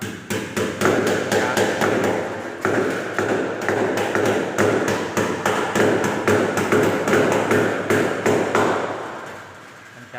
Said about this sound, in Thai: พับหัวพับท้ายแล้วก็มาตอกตะปูใส่ผนังปูนแบบนี้